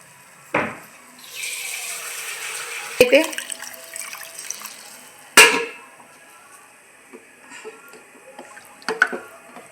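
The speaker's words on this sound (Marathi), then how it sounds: "मस्त असं भरपूर असं पाणी ओतून घ्यायचं आहे आपल्याला त्यात" Water poured into cooked sambar gravy for vada, heard as a pouring and splashing stretch with sharp clatters of a vessel or utensil against a pot and a few softer knocks, close by and without talk.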